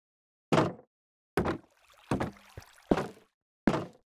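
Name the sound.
Minecraft fence gates opening and closing, video game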